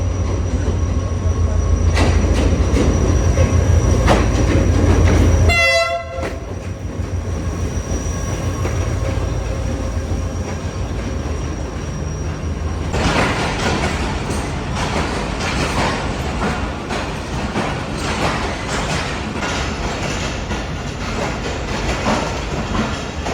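Sukkur Express passenger train at a station in Pakistan, loud and close: a heavy rumble, then a sharp horn-like tone, followed by a long stretch of rhythmic clickety-clack wheel noise and squealing as the carriages pass.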